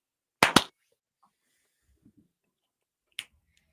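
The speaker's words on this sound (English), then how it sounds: "Only you and me get to clap." Two sharp hand claps close together, then a few faint taps and one more crisp clap after a pause, in an otherwise quiet room.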